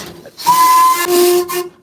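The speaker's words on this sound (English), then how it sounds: "we're ready to go. Lots of whistles." A steam locomotive whistle on the Isle of Wight Steam Railway blows two loud shrill blasts, the second lower in pitch, amid hissing steam.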